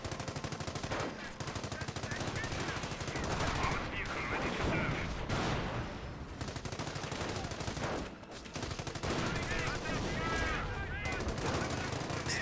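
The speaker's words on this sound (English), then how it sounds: "Snipers hitting these Panzer Grenadiers." Sustained gunfire from a Company of Heroes battle as snipers fire on Panzer Grenadiers, with dense rapid shots and bursts running continuously under a busy mix of game noise and a talking voice.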